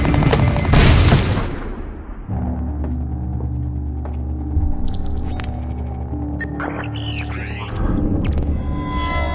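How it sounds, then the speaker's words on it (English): A grenade blast in the video game Splinter Cell: Blacklist opens with a loud, booming burst, then dies into a low steady hum with scattered faint electronic blips. "Grenade!"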